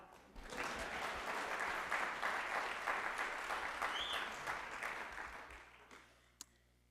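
An audience at a school district State of the Schools address breaks into applause, a dense sustained clapping that swells quickly, holds, then tapers off, ending with a single sharp knock.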